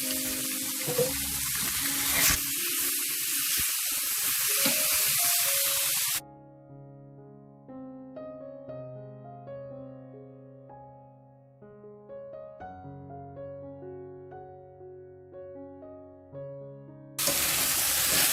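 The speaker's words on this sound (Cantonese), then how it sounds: "可以落埋我哋嘅脆肉瓜啦。" Loud hissing sizzle of chicken strips and courgette stir-frying in a pan, cut by a long stretch of soft music, then the sizzling returns.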